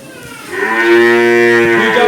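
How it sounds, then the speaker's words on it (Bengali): A young two-tooth dairy cow gives one long, loud, close moo that swells after a quiet start and holds steady to the end, with no voices. "এই যে গরুটা উঠতেছিলেন, 2 দাঁত বয়স গরুটা"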